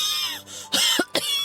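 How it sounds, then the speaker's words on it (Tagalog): A person's cough comes as two or three harsh, close bursts after a short stretch of tonal sound, their throat itchy and irritated. "Ang sama ng tunog ng ubo mo."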